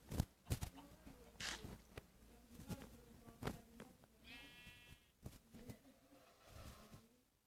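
Sheep in Minecraft bleat in short, faint, separate calls over a quiet background, with scattered clicks from gameplay.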